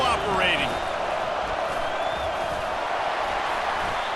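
A steady, dense stadium crowd roar from EA Sports College Football 25, Auburn against USC on first and goal, holding at an even level throughout under a commentator's voice.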